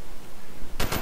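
A short, loud burst of rapid FAMAS assault rifle fire from a Call of Duty: Black Ops match breaks in after a moment of ambient game noise.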